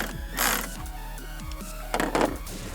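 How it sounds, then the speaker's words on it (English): Ratchet clicks from a 10mm socket loosening the negative battery terminal nut on a 2016 Kia, with two short bursts of rapid mechanical clicking close by over a steady low hum. "We're going to use a 10mm socket and a ratchet."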